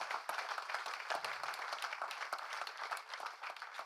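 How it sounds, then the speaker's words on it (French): Audience applause at a public discussion, a fairly quiet but steady patter of many hands clapping at a moderate distance, running throughout with no talk on top. "Je pense qu'on peut vous applaudir."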